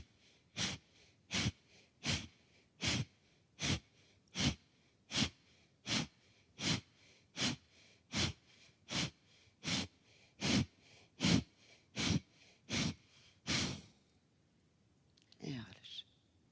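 Steady, rhythmic breathing during a yoga exercise, about twenty strong breaths spaced under a second apart with no talk, ending in a pause and a brief faint sound.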